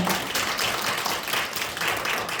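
An audience at a lecture applauds, a dense, fairly soft patter of many hands clapping together for a couple of seconds.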